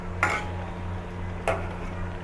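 Crab curry in a pot being stirred gives two brief scraping clinks of a utensil against the pot about a second apart, over a low steady hum, close and fairly quiet.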